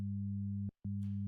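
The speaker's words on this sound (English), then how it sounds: "Two sine waves playing an octave apart" Two steady sine tones an octave apart, the lower at 100 hertz, sounding together as a clean electronic hum that cuts out briefly for a moment before resuming, followed by a faint hiss.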